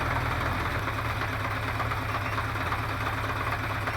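A 1973 Honda CB500 Four motorcycle engine runs close and loud, a steady dense idle with a fast, even mechanical pulse and rough buzzing texture throughout.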